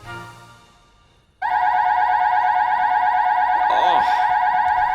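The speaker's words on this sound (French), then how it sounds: "Que quelqu'un aille m'éteindre cette fichue alarme!" A security alarm blares in a steady, piercing electronic tone that starts abruptly after a quiet moment and continues loud and unbroken, with a brief warbling flutter near the end.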